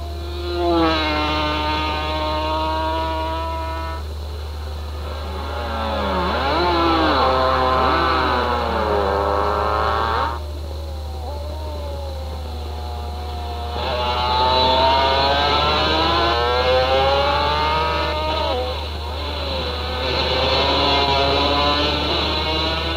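Motorcycles race at the Isle of Man TT, their engines rising and falling in repeated high, whining surges that swell and fade as the bikes pass, all over a steady low hum.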